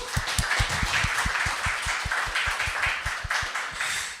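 A small group claps for a speaker at a community digitalisation session, with steady, distinct, fairly close handclaps in an even rhythm and no talk over them.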